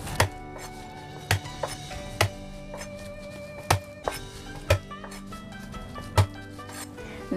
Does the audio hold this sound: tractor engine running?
no